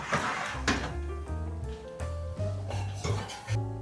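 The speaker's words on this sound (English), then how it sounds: "they are ready to come out of the oven" An oven door clunks open and a baking pan of blondie brownies is pulled out, with metallic scrapes and knocks of the pan, a few close clattering handling sounds over a faint hum.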